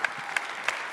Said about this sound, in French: Donc je pense que ça mérite quelques applaudissements déjà.